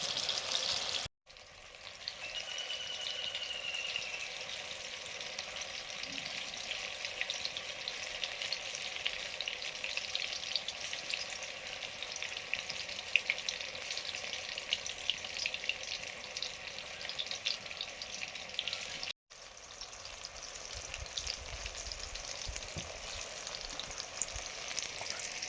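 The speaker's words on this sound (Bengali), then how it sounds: "কচু ফুলের বড়াগুলো ভাজা করছি এখন" Kochu (taro) flower fritters fry in a pan with a steady, bright hiss of bubbling oil, close up and uninterrupted apart from two brief cuts.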